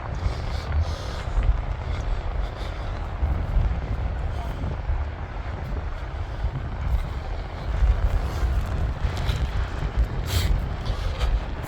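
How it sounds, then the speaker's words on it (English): Strong wind gusts buffet an outdoor microphone on a wartime-themed weekend event at a coastal battery in Northumberland, a continuous loud low rumble that swells and eases throughout. "Flippin' wind."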